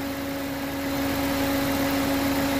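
A BMW car engine idles with a steady, loud, continuous hum and a constant tonal drone, heard close and alone without any talk.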